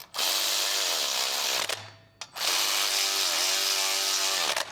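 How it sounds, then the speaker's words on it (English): An electric ratchet snugging flex plate bolts: two loud, sustained whirring bursts of a few seconds each, separated by a short pause, close and alone without speech. "We're just going to use an electric ratchet."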